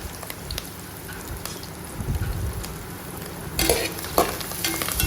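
Garlic, ginger, green chillies and curry leaves sauté in hot oil for a camel meat curry, a continuous close sizzle with stirring scrapes that swell louder toward the end, no voices.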